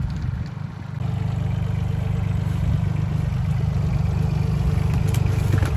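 A Solis tractor's engine starts up and settles into a steady, loud, close idle with an even low throbbing rumble and light clatter, no talk over it.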